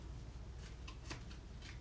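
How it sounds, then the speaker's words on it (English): A deck of tarot cards is shuffled in a few quiet riffling bursts, soft and close with no talking. "I shuffled this deck, and Bonnie"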